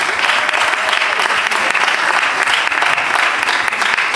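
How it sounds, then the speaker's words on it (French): Dense, sustained applause from an audience at a commemorative film screening evening, loud and even throughout with a thick wash of many hands clapping at once. "On applaudit encore une fois."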